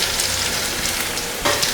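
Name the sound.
capsicum, coconut and salt sautéing for chutney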